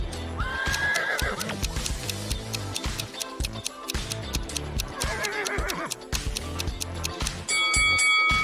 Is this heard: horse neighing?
yes